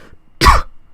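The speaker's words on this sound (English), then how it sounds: "I'm gonna cough." A single short, harsh cough bursts out close by, standing alone against near silence.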